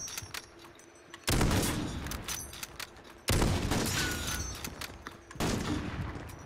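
Bursts of rapid automatic gunfire from Call of Duty: Modern Warfare, three loud, sharp volleys separated by brief quieter gaps, close and dominant with no talking.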